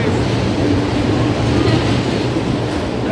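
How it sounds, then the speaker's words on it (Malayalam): A passenger train pulling into a railway station, a loud, steady rolling rumble with a faint rail clatter throughout, close by and without clear speech. "ഇവിടെ ട്രെയിൻ വന്നു. ഇതാണ് നമ്മുടെ ട്രെയിൻ."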